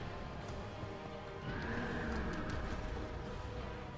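A horse enemy in Dark Souls II snorts and whinnies, a raspy neigh swelling midway and holding steady over continuous game noise, fairly close and moderately loud.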